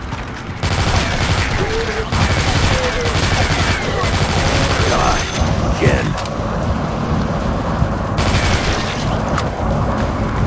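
Dense, continuous gunfire from the zombie-shooter video game Dead Trigger 2, rapid shots packed into a loud wall of sound over game effects, with a voice talking at times.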